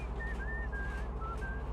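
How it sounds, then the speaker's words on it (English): A passenger whistles a wavering tune aboard a bus in the Bus Simulator 16 video game, the whistle steady and clear above a constant low engine hum. "No whistling on my bus, please."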